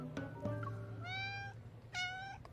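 Agitated cats in the game Love and Deepspace let out two clear, drawn-out meows after a few short chirps, heard up close and fairly soft.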